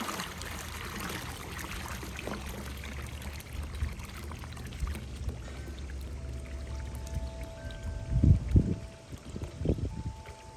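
Chlorine glugs and splashes from a 5-gallon jug into a backyard swimming pool in a steady outdoor pour. Heavier sloshing comes near the end, and no one speaks.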